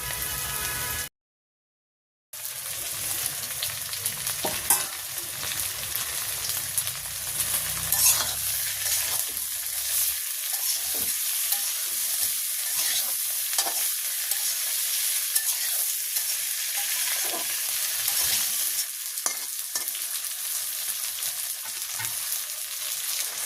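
Hilsa fish frying in hot oil with browned onions in a village kitchen, a steady close crackling sizzle that runs on continuously after a brief gap, with occasional light clinks of a utensil.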